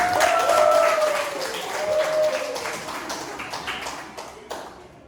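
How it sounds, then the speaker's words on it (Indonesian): Audience applause at a teacher-training performance assessment session in a classroom, a broad wash of clapping that fades gradually over a few seconds, with some tonal sounds in the first half and a faint voice. "Kita beri tepuk tangan."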